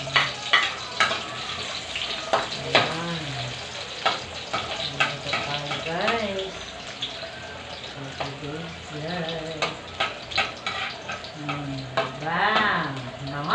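Onion and garlic fry in a pan, a steady sizzle broken by repeated stirring scrapes and clatters, while a voice speaks intermittently over the cooking.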